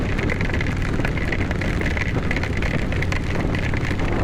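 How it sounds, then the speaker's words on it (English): Heavy storm rain pours down at evening during a drive near Amarillo, making a dense, continuous roar of drops drumming on a surface, mixed with wind buffeting, loud and unbroken with no talking. "the rain has to get heavier before it gets lighter"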